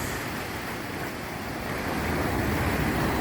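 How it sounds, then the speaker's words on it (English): Ocean waves rolling in over tide pool rocks at Pebble Beach, California near low tide, a steady, loud surf wash mixed with wind noise on the microphone, swelling slightly, with no talking. "You see the waves coming in?"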